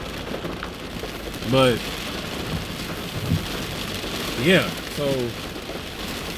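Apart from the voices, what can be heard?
rain falling during outdoor sermon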